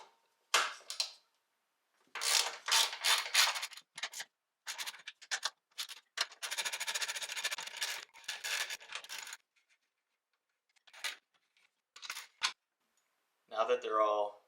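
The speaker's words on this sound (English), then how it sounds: "So I'm going to loosen the top nuts now" Top strut nuts being loosened with a wrench on a 2015 Subaru WRX during an air suspension install, heard as several bursts of close metallic ratcheting and scraping separated by pauses.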